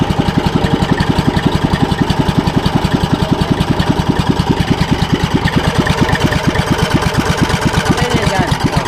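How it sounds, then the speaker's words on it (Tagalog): A small engine runs loudly up close with a rapid, steady putter, its rhythmic chugging unbroken throughout. "May makina na uli ang Kuya Michael."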